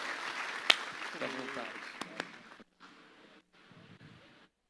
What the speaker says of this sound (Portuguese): Você pode dar uma salva de palmas para Jesus pela vida dele?